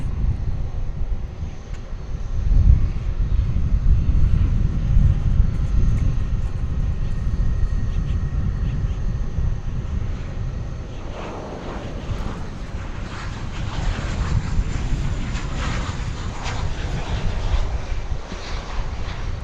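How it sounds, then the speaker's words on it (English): An American Airlines Boeing 737-800 arriving at Dallas-Fort Worth International Airport, heard as a steady broadband jet engine roar that swells and then holds, with wind buffeting the microphone and no talking. "It's an international arrival from Guadalajara in Mexico. American Flight 1034, 737-800."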